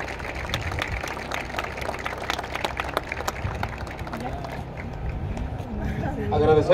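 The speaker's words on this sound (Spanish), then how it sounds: "Vamos a brindarles un fuerte aplauso," Sustained crowd applause at an outdoor civic ceremony honoring Benito Juárez in Matamoros, Coahuila, with a floral offering; dense clapping runs throughout alongside crowd noise and some talk, growing louder near the end.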